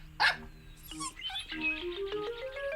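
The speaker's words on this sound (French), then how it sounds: "Snuffy s'arrêta devant la fenêtre de la cuisine et se mit à aboyer." A cartoon dog stops at a kitchen window and gives a few short, sharp barks over a light musical backing.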